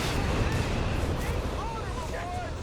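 Mortar hit in Company of Heroes 3, a dull rumbling impact over dense battle noise, with a voice talking over it.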